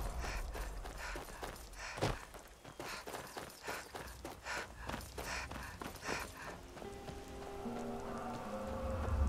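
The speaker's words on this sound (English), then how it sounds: "It's raining." Steady rainfall patters across a surface with scattered soft impacts and a low rumble, continuous and fairly faint throughout, in the video game Skyrim.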